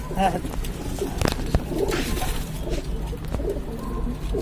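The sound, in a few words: pigeons cooing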